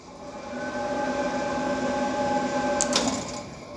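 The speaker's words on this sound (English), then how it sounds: "you also turn on the cooling tray fan, which is going to get pretty loud here" Cooling tray fan on a Mill City 2k coffee roaster runs with a steady, moderately loud whir and faint tonal hum, continuous throughout with a brief rattle near the end.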